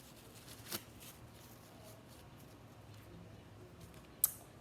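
Paper or similar material being torn into small confetti bits for a homemade squishy, two short sharp rips spaced apart over quiet background.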